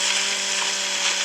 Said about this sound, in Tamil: இப்போ இந்த செயின்ஸோட பவரை காட்டுறேன்.